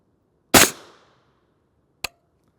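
A single sharp rifle shot from a 12-inch 8.6 Blackout firing a subsonic 300-grain Hornady A-Tip bullet, with a brief decaying tail, then a short faint impact crack about one and a half seconds later.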